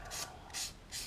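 Three slow, even strokes of a water-dipped 320-grit sanding pad rasp across a resin anime figure's arm, soft and close with quiet pauses between passes.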